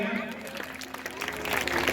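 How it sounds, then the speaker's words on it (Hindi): Applause rises at a school Independence Day program at GSSS Salempura, a brief burst of crowd clapping with voices, growing somewhat louder toward the end. "जोरदार तालियां"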